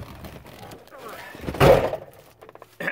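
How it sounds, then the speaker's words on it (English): A van door swung shut with a single loud, close thunk about midway, surrounded by quieter handling rustles and a brief knock afterward. "I'm going to shut this door."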